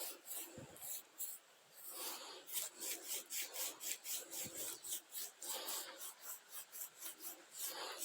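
Bristles of a paintbrush rasp repeatedly over a freshly moulded cement garden vase, smoothing burrs in a steady scrubbing rhythm of short strokes, close and fairly quiet, with no talking.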